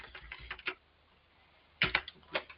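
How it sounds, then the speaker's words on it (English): Keystrokes on a computer keyboard, close and fairly faint, coming in two short bursts of quick clicks with a pause in between and no talking. "I'm just typing it here."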